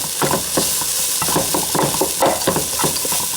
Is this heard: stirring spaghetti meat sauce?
yes